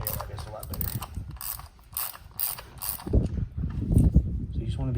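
A ratchet with an extension loosening the primary cover nuts on a Harley-Davidson Dyna Street Bob clicks in rapid, close bursts, followed by heavier metallic turning and clunks, with no talk.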